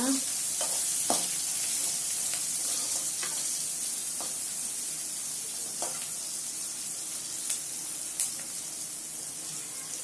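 Onion and okra sauté in a pan for a vegetable stir-fry, giving a steady, close sizzle with occasional stirring scrapes and clicks throughout.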